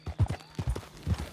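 Horse hooves clip-clop in Red Dead Redemption 2, a quick run of soft, close hoofbeats in an uneven walking rhythm.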